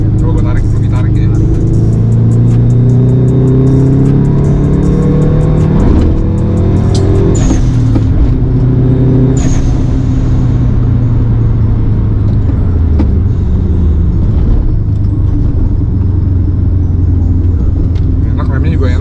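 Subaru WRX STI engine pulling hard under acceleration, its harmonics climbing through the gears with a brief shift break midway, loud and close from inside the car while someone talks over it.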